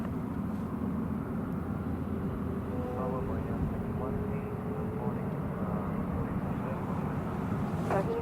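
Saudi 987 airliner begins its takeoff roll on runway 07 right at Hong Kong Airport, a steady low engine roar heard from a distance throughout, with radio chatter between the tower and pilots laid over it.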